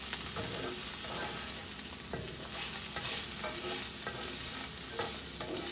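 Low-sodium, heart-friendly sauce sizzles steadily in a pan, a dense continuous frying hiss with scattered pops and occasional scrapes of stirring, no talking.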